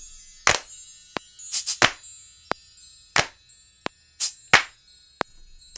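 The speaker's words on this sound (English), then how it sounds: "Next percussive sound, let's add kabasa." Cabasa shaken and scraped in short, sharp rattling strokes, about a dozen distinct hits spaced unevenly, close and crisp with quiet gaps between them.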